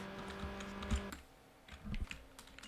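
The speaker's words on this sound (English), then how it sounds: "I had to move the microphone away from the keyboard so it's not clicking so much" Close computer keyboard typing, a run of quick plastic key clicks in an uneven rhythm with a few louder strikes, no voice over it.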